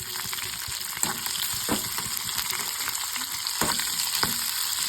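Green chillies and dried red chillies fry in a pan with a constant close crackling sizzle, punctuated by several stirring clicks and scrapes of a spoon.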